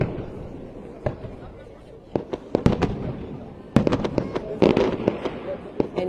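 Fireworks burst at a July 14 celebration in Saumur, sharp cracks and booms going off in irregular volleys, some singly and some in quick clusters, over a steady murmur of crowd chatter.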